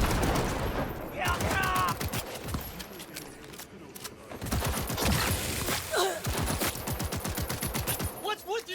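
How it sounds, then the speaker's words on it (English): Rapid bursts of gunfire in a first-person shooter game, several volleys of loud repeated shots spread through the clip, mixed with players talking excitedly. "Oh, that's a shotgun."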